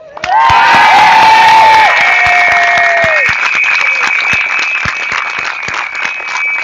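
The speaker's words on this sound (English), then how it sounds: "I'm sure we would all like to cheer our thanks to the bravery of Kira Bell" A crowd at Speakers' Corner cheers and applauds loudly for Kira Bell, with whoops and shouting over dense clapping that starts abruptly and stays strong, the shouts fading after a few seconds while the applause continues.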